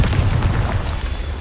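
Confringo blasting spell explosion in Hogwarts Legacy: a continuous heavy low boom and rumble filling the whole moment, loud and close with no voices.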